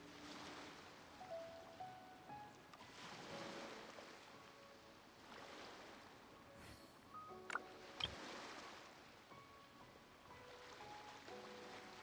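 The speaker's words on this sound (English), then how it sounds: "The sound of the ocean waves." Ocean waves roll in steadily in the video game Genshin Impact, a soft, continuous wash of surf with gentle swells and a couple of small clicks, faint and without talk.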